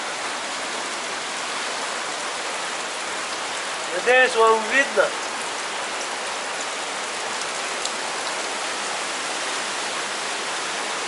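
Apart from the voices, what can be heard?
water flowing and dripping everywhere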